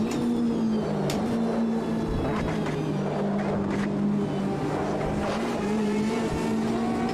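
A Porsche race car engine in the racing simulator Automobilista 2 drones continuously, its pitch rising and dipping slightly as it runs, steady and fairly loud throughout with no talk.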